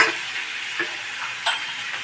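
Garlic paste and onion juice fry in hot oil, giving a steady close sizzle with a few faint ticks and stirring clinks over the constant hiss.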